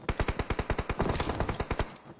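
Rapid automatic gunfire from the battle royale game BGMI rattles out in a steady burst of about twenty evenly spaced shots, fairly loud and with no talk.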